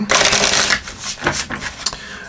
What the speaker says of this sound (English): let's give these a few shuffles here.